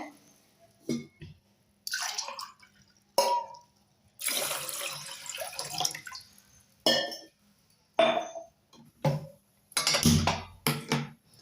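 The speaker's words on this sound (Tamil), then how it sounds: "ஒரு பாத்திரம் வச்சு அதில் வந்து ரெண்டு டம்ளர் தண்ணி விட்டுக்கணுங்க" Two tumblers of water splash and trickle in bursts into a metal cooking pot for barley porridge, with clinks and drips between pours, close and fairly loud.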